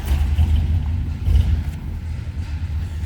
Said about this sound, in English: Let's go ahead and start it up so you can hear it run.